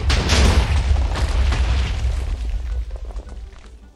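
A TNT block detonates in Minecraft while clearing out ground, producing a loud, booming explosion that hits at once and then rumbles and crackles away over several seconds.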